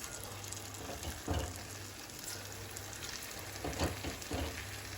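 Buckwheat flour pakoras deep-frying in hot oil, a dense, steady sizzle with occasional louder crackles and bubbling bursts, close up and without talk.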